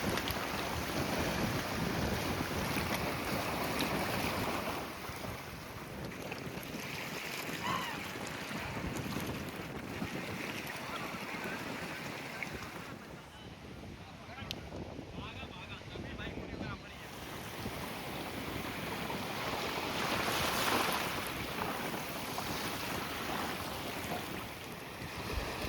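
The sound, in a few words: waves at Manori Beach, Mumbai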